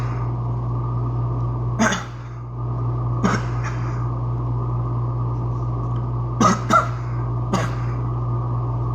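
Several short coughs, one around the two-second mark and a cluster later, close and fairly sharp over a steady electrical hum.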